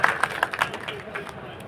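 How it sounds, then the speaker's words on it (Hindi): An audience at a political speech claps in scattered bursts that fade out over a couple of seconds, with crowd murmur and voices talking underneath. "ताली बजा दीजिए"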